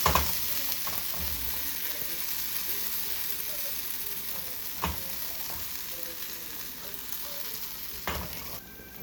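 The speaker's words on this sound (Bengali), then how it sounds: "বাকিগুলোও ভেজে নেবো এইভাবে" Raw banana fritters fry in hot oil with a steady hissing crackle, close up, and a few scattered knocks and clinks of a utensil in the pan.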